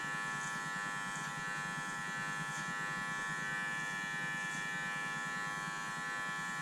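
An electric hair clipper runs close and steady in a barbershop setting, a continuous buzzing hum with no pauses or talking throughout.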